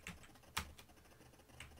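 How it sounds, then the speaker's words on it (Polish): Computer keyboard typing during a session making levels for Atari XE/XL games, a few scattered clicky keystrokes with one sharper tap in the middle, quiet and close, no voices. "Tutaj wystarczy sobie wpisać Janusz Pelc."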